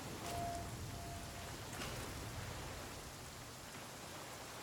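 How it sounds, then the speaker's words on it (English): Steady rain falls in the survival game The Flame in the Flood, a faint, even hiss of drops with no other sounds over it. "And it's raining"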